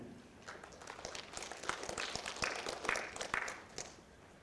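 Scattered, fairly faint clapping from a small audience at a Space Camp graduation ceremony, uneven and irregular claps running throughout the moment while no voice is prominent.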